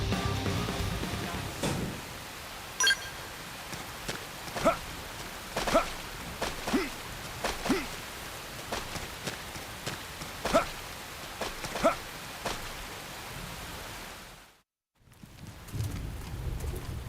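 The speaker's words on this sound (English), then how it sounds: "The rain's starting to let up, just in time for sunrise." Rain in the Xenoblade Chronicles X video game hisses steadily throughout, with sharp close drips and splashes ticking at irregular intervals, a brief dropout near the end, then the rain returns.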